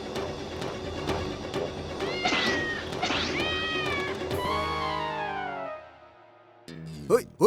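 Cartoon cats meow in a series of rising and falling wails and caterwauls, loud and close, one after another, with a short pause before a final pair of sharp meows.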